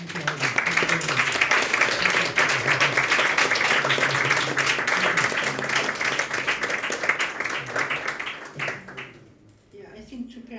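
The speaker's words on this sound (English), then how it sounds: "One more really big applause." An audience applauds after testimonies at a European choir and orchestra project, with dense, sustained clapping for roughly nine seconds that then thins out and fades.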